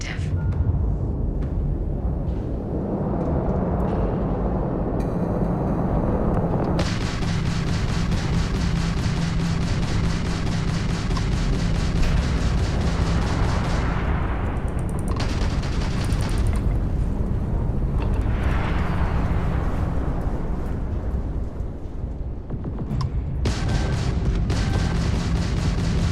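Weapon fire in a mech combat video game simulation: heavy, continuous booming and blasting that fills the whole stretch, loud and dense, with brief shifts in intensity and a voice now and then.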